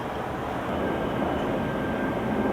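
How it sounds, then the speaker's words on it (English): A steady, distant airplane drone passes overhead outdoors in Los Angeles. The broad, even roar holds at a constant level with no voices. "There's a plane somewhere."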